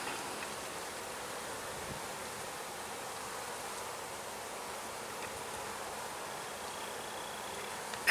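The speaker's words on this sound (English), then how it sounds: "look at all the bees" Honey bees buzzing around hive entrances in hot weather, a steady dense hum with a soft hiss, constant and moderately faint without any talk.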